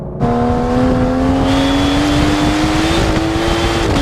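An Aston Martin DB11 AMR's V12 engine roars loudly up close, its smooth growl rising steadily in pitch as it accelerates without pause.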